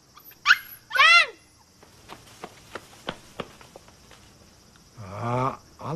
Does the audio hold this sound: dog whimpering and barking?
yes